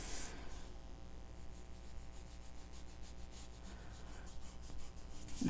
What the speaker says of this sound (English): So I'm going to take my finger and I'm going to lightly rub around there.